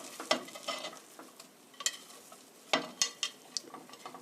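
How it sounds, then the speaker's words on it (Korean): Onion, garlic and cabbage being stir-fried in a pan, with sharp scraping and clacking strokes of a utensil in irregular bursts over a soft, steady sizzle, close by. "이렇게 해서 8 minute 8분간 볶아주세요"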